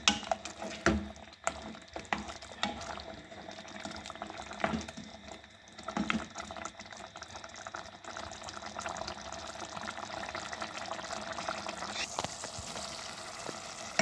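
Mashed tomatoes fry hard over high heat in a mutton karahi pan with salt and black pepper, a continuous wet sizzle and bubbling broken by occasional sharp clanks of stirring.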